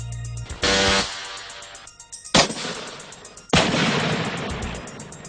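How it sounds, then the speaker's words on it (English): Metal Storm electronic weapons system firing, heard as several loud, abrupt broadband bursts: a sustained roar that cuts off, then two sharp blasts each followed by a long rumbling decay, with no voices. "This revolutionary technology offers electronic variable rates of fire to more than 1 million rounds per minute."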